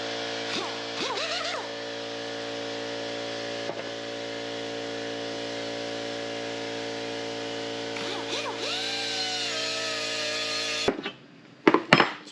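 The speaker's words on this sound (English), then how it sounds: "I'm gonna try to take off as much material as possible with the grinder a little faster" An angle grinder grinds metal off a Suzuki Cappuccino control arm, a steady high whine that sags in pitch as it bites, then cuts off into a few clattering knocks.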